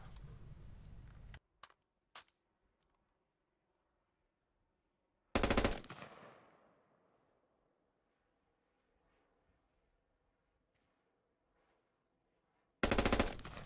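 Automatic rifle fire in the video game Squad comes in loud bursts: a long stream of rapid shots, a few single cracks, then another burst with a fading echo, followed by a final burst after a quiet gap.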